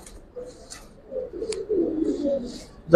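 A female pigeon of an old-breed Giribaz line in Islambagh, Dhaka, gives soft low coos, close by and fairly quiet, with a few faint chirps and a sharper sound at the very end.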